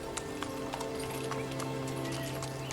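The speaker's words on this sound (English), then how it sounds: "as the horses clomp their way north, Xarxius, you trudge ahead" Hooves clip-clop in a quick, steady rhythm as horses travel along a road, a close, even clatter over a low ambient drone.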